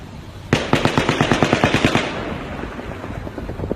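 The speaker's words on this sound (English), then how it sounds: "Now consider the audio of the shooting from 2 different locations here." A rapid burst of automatic gunfire from the Las Vegas shooting, roughly fifteen evenly spaced cracks in about one and a half seconds, loud and echoing, followed by a fading reverberant tail.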